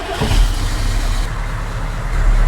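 A Humvee on a test drive just after a transmission swap, its engine giving a loud, steady, close low rumble that swells slightly at the start and end.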